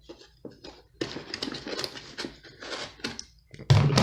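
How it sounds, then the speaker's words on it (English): A cardboard box holding a small, heavy Chinese-made brake caliper tool kit is handled and opened, giving close, irregular rustles, scrapes and light clicks, with a louder burst of handling at the end. "I'm gonna unbox it here."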